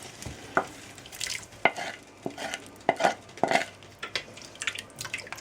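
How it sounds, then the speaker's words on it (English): Onions and pork tossed into a pot with mashed tomatoes for a chorizo, chickpea and pork stew, giving irregular close clatter, stirring scrapes and soft sizzling with sharp spoon knocks scattered throughout. "And now we pop the onions and the pork in there."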